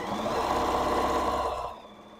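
A sewing machine runs steadily, stitching a row across a quilt sandwich with no walking foot attached. Its rapid, even mechanical whir is close and loud, then stops abruptly near the end.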